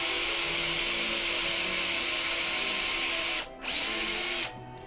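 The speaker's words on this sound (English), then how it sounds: "I can drill the new" A power drill bores a hole in wood for an antique chair restoration, running steadily at close range with a high, continuous whine, briefly cutting out near the end before resuming and stopping.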